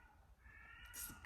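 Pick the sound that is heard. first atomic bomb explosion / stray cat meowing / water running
stray cat meowing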